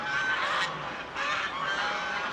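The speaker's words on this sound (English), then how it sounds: "So geese there" A flock of geese honking continuously, a dense overlapping chorus of nasal calls at moderate distance, with no voices.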